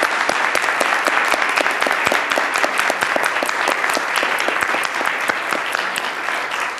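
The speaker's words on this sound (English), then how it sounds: "could we give them all another round of applause?" Audience at a swearing-in ceremony applauding the singers, dense, loud, sustained clapping from a large crowd with no voices heard.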